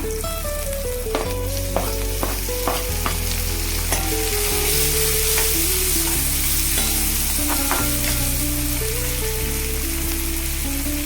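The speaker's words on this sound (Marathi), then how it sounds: "आणि थोडंसं टमाटो घालूया।" Tomatoes are added to a hot pan with asafoetida for a radish curry and stirred, giving a loud, steady sizzle throughout with occasional scraping and clinking of the spoon, close up.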